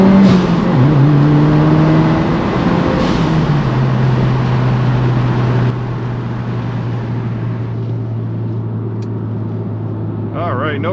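A 2022 Subaru WRX Limited pulls away from a green light, its engine note climbing loud and near through a gear with a blow-off valve hiss at the shift, while someone talks over it inside the cabin.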